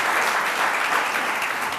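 Audience applause on a talk show, a dense, steady wash of clapping from a sizeable crowd that stays loud and even throughout the short stretch with no voices.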